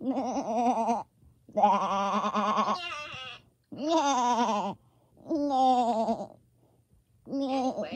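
A person imitates a goat with five wavering, nasal bleats in a row, loud and close with short gaps between them, and a single spoken word slips in among the calls.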